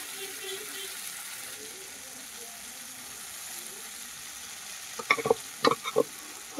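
Boiled dal tipped into hot oil with cumin for a tadka, giving a steady low sizzle followed near the end by a few sharp bursts of spatter and stirring, with no talking.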